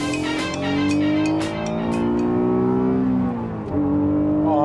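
Honda NSX being driven around a race track, its engine revving loud and close through rising gear pulls, with a brief dip between gears and faint tyre noise.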